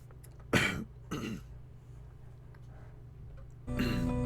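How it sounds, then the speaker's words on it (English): Two short, harsh throat-clearing bursts close to the mic, then a quiet pause and a third rough burst near the end, with no talking. "I'm trying to clear my throat."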